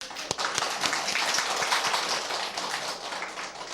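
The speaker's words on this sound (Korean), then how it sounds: "우리 박수로 환영하겠습니다." A church congregation claps in welcome during a Sunday service, a dense, even patter of many hands with a few sharper claps standing out, heard without talk.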